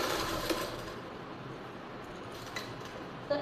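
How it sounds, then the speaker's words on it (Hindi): A domestic sewing machine stitches the armhole of a baby frock, a quiet, even mechanical whirr running steadily, with a couple of small clicks and no speech. "तो ऐसे ही सिलाई मैं इस साइड भी लगा लेती हूँ आर्म होल पर"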